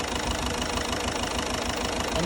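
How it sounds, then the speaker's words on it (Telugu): A Ford car engine idles with a steady, rough, ticking rumble that stays constant throughout. "ఇప్పుడు మనం ఇంజన్ ఒరిజినల్ నాయిస్ వింటున్నాం"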